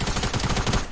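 Rapid automatic gunfire in Fortnite, a fast, even burst of loud, close shots running through the whole moment without pause.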